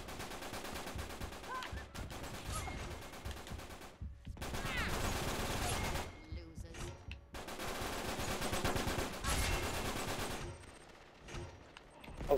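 Dense, sustained automatic gunfire in the multiplayer shooter Uncharted 3, long rapid bursts broken by brief pauses, loud and close, with faint voices underneath.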